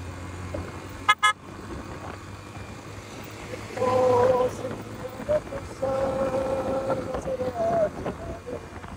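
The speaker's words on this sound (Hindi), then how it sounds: "अभी मैं थोड़ा बाइक को भगाता हूँ" A motorbike rides through busy city traffic in Abbottabad, with a steady engine drone and road rumble, a sharp short toot early on, and longer car horns honking nearby over several seconds.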